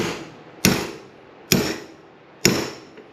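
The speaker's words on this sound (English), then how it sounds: "Again, let the hammer do the work." A hammer taps a part out of a Nissan RB26 individual throttle body assembly during teardown: three sharp, close metallic strikes spaced about a second apart, each ringing briefly, with no talking.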